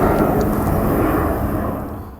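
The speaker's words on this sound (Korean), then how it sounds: "비행기가 지금" An airplane passes overhead outdoors with a loud, steady broadband roar that slowly fades slightly, with no voices heard.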